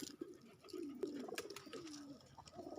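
Pigeons coo softly at close range in a single low, rolling call lasting about a second, over faint background noise.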